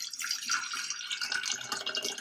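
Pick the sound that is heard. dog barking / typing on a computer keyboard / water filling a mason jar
water filling a mason jar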